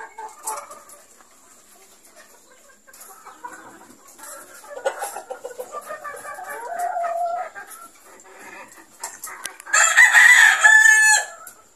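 A Super Sweater Cross Gray gamefowl rooster crows loudly and close near the end, after scattered softer clucks and bird sounds.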